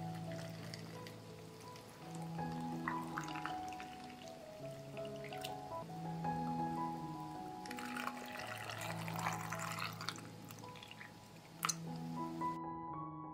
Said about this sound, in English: I will fill the jars with water.